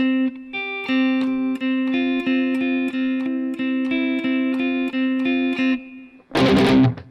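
An electric guitar chugs palm-muted power chords in a steady, repeated rhythm up close, then a brief burst of louder strummed noise closes the passage, with no voices.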